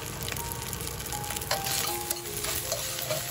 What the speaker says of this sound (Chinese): 继续翻炒，把米饭炒散